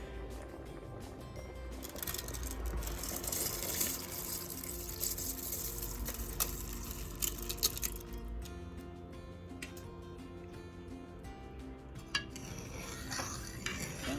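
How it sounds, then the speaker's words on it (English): Washed rice is poured into coconut milk in a cooking pot for Jamaican rice and peas, giving soft close sloshing with light clinks of utensils against the pot. The sounds are quiet and unvoiced. "So I'm just going to pour the washed rice into the coconut milk with the rice."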